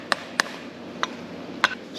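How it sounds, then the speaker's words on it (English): A brass hammer strikes a John Deere BN tractor fan shaft part in four sharp, separate metallic knocks, irregularly spaced and up close against quiet shop background. "Friendly brass hammer here."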